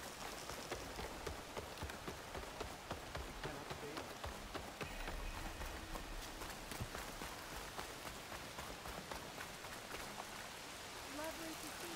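Steady rain in the video game Horizon Forbidden West patters on a surface throughout, a dense even hiss with scattered drops, moderately quiet, with faint voices underneath near the end.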